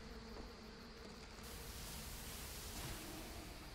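Bees in the video game Trine 2 make a steady, dense insect buzz that holds evenly throughout, a continuous droning hiss at moderate level.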